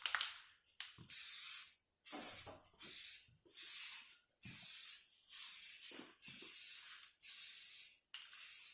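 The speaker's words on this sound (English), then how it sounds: "I just want to use self-etching primer for that. So when you put this on, you want to just fog it on and give yourself a couple of coats." A spray can fogs self-etching primer onto a car wheel in about nine short, even bursts of loud hissing, separated by brief quiet pauses.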